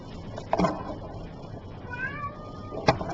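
A pet cat meows indoors in a few separate calls, including a drawn-out, wavering meow partway through and shorter cries at the start and end, all fairly close and moderately loud over a quiet room.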